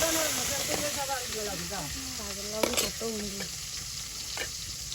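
Small icha fish and shrimp sizzle loudly in hot oil at a village home kitchen, a steady close hiss with stirring clatter and occasional sharper pops.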